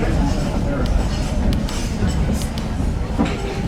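Norfolk & Western #475 steam train on the Strasburg Railroad rolling by, a loud continuous rumble of rail cars with clicks and a brief wheel squeal, voices faintly mixed in.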